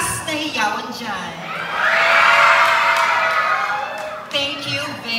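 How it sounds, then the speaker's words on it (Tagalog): A crowd at the Queen of San Jose 2025 beauty pageant's introduction of candidates shouts and cheers, the roar swelling loud and sustained for a few seconds before easing, with an amplified voice over it at the start and end. "Wala po bang malakas na hiyawan dyan?"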